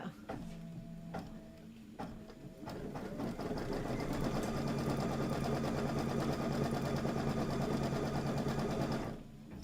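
A sewing machine stitches a quilted table topper, a few short starts and stops giving way to a steady, fast, rhythmic whirr that runs close and loud for several seconds before cutting off.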